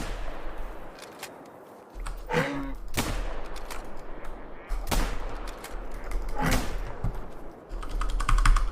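Gunshots crack in a homemade game-jam shooter, a handful of sharp, irregular bursts over steady keyboard clicking and background hum.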